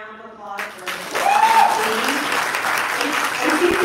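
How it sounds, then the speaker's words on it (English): A debate audience breaks into loud, sustained applause and clapping that builds within a second and continues steadily. A voice is heard briefly at the start. "applause for the team?"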